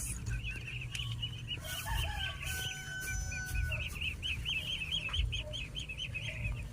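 Ducks and baby ducks on a duck farm during egg collection give a steady chorus of repeated, overlapping calls, busy and fairly close, over a low background rumble.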